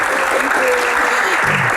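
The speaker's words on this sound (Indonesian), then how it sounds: "Kita berikan tepuk tangan untuk dua panelis kita" Crowd clapping for two panelists at a Q&A session, a brief full burst of many hands applauding nearby, with a few voices audible beneath the clapping.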